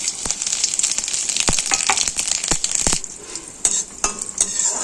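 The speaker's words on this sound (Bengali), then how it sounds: "তেলটা গরম হয়ে গেছে, ফোড়নটা আমি ঢেলে দেবো।" Hot oil crackles and sizzles around a tempering of asafoetida, cumin, nigella and dried chilli, with sharp spatters and a utensil clinking against the pan throughout.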